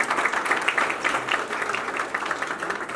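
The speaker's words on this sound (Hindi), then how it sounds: "Song अनवील करने से पहले ताली" An audience at a birthday event and single launch for a singer claps continuously before a song is unveiled, a fairly loud, busy patter of many hands throughout.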